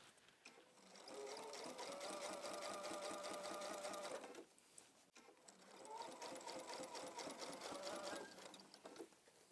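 A home sewing machine runs close by, stitching through fabric in two long bursts of steady, rapid whirring with a short pause between, while a quiet voice talks over it.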